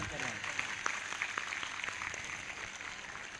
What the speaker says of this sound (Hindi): वो ताली बजाकर धन्यवाद कर रहे हैं